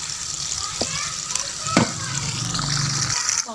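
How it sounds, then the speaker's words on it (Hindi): Chopped onions frying in oil in a pan to brown for a tinda curry, giving a steady low sizzle and bubbling that runs throughout with a few soft clinks, close and moderate in level. "प्याज को ब्राउन करेंगे।"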